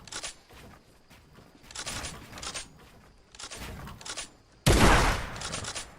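Gunfire in a competitive video game match, bullets missing on both sides: several clusters of sharp rapid shots at moderate distance, ending in one louder close burst, with no talk heard.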